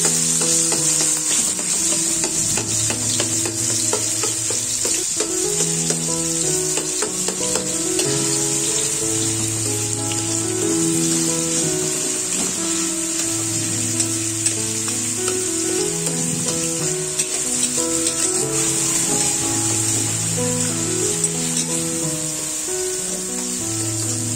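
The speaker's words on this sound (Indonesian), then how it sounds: "Masukkan 1 buah tahu, kemudian hancurkan menggunakan sutil atau spatula" A block of tofu is crushed with a spatula while bean sprouts stir-fry in a hot pan, giving a steady, bright sizzle with faint scraping under prominent background music.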